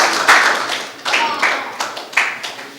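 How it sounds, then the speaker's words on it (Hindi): At a mushaira poetry gathering, an audience claps in short bursts, a few uneven waves of hand claps rising and fading, fairly close with a voice faintly underneath. "जोरदार तालियां बजाकर के इस्तकबाल करें"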